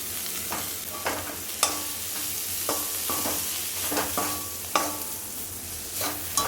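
Cumin seeds frying in hot ghee in a pan: a continuous close sizzle with sharp stirring clicks and scrapes every half second or so, no voices.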